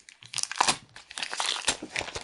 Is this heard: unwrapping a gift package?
yes